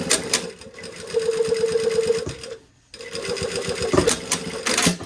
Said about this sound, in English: I'm just going to sew this down in the seam allowance